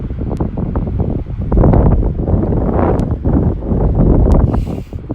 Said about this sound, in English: it's windy, so I don't even know if you'll be able to hear my voice